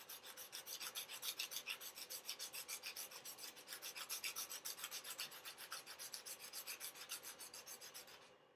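A pencil point is sharpened by rubbing it back and forth against an abrasive surface, producing a fast, even rasping scrape in many short strokes, close and quiet, before it stops.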